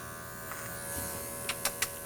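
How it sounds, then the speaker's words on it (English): Electric clipper trimming a dog's chin whiskers: a quiet, steady buzzing hum with a few brief sharper snips of contact near the end, close by and without talk. "I'll just do what I need with the clipper before I put it down."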